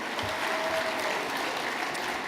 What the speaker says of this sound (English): A huge round of applause for all of our chapter leaders who are here supporting us tonight